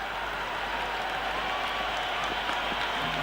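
Dense, steady applause and crowd roar fill the stadium of the cricket video game Cricket 26 during a T20 World Cup match, a constant loud wash of clapping and cheering with no gaps.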